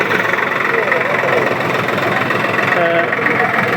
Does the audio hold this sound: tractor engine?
yes